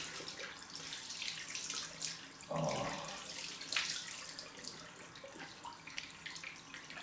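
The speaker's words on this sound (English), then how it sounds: "Post shave time for the cold rinse." Cold water runs from a tap for a post-shave rinse, a steady faint splash with a brief louder gush near the middle, no talk over it.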